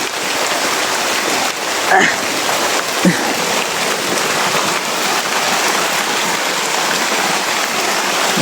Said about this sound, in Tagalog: Malakas talaga yung ulan mga tol.